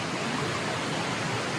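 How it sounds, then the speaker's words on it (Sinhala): Galaboda Waterfalls in Sri Lanka roars with a steady, dense rush of water after heavy rain upstream, a close, loud and unbroken wash with no voices. "මේ පැත්තට වැහැලා තියෙන හින්දා ඇල්ලෙත් වතුර වැඩි"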